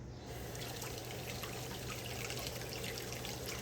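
Water runs from a kitchen tap while a mushroom is rinsed for making mushroom bacon, a steady, continuous splashing hiss heard up close with no talking.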